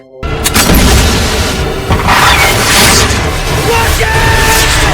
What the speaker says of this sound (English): An instant later, the explosion ripped through the air.